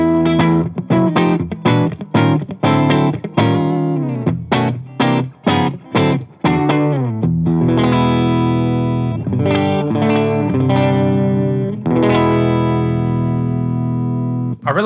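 PRS SE245 electric guitar with neck and bridge pickups combined, a bright twangy clean tone: a run of crisp plucked notes, then ringing strummed chords, loud and close.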